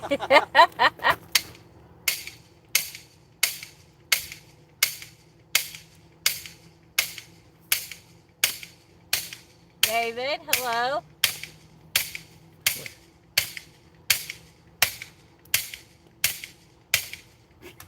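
Big hammer driving a steel rod holder stake into the ground at an outdoor campfire spot, sharp metallic blows in a steady rhythm of about two per second, near and loud, with a brief voice partway through.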